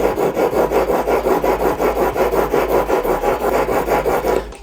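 A single bevel broadhead is stroked repeatedly across a sharpening stone, a steady rhythmic rasping scrape that repeats many times close up with no talking.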